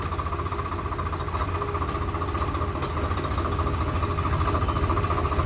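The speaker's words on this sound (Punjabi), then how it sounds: "ਇੱਕ ਟਰੈਕਟਰ ਗੱਜ ਲੈ ਗਿਆ ਬਾਈ" A Swaraj 855 or Arjan 605 tractor engine runs hard on a long road trip in bad weather, a steady loud pulsing drone with a knocking rhythm that builds slightly.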